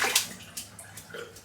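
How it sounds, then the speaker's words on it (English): Close splashing and sloshing of water as a shaving brush is rinsed, with short bursts of drips and swishes. "Just rinsing out the brush."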